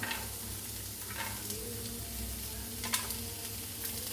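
Chopped carrots sizzle with onions in a hot pan for quinoa brown rice upma, a Kerala breakfast dish; a steady close frying hiss runs throughout, broken by a few sharp scraping stirs.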